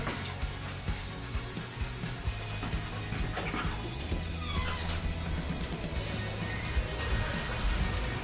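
Dogs whimper and yip over a busy, noisy background, with short barks scattered through and no clear talking.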